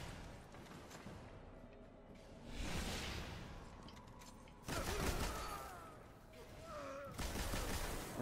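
Sniper fire in a multiplayer Valiant Clan 3v3 salvage match: sharp game gunshots and whooshes burst out in a few loud clusters over steady background action, with a player shouting over them.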